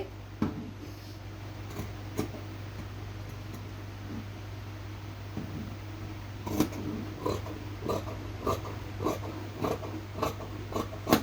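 Scissors cut through a piece of fabric in short, crisp snips, sparse at first and then quicker and clustered near the end, up close over a low steady hum.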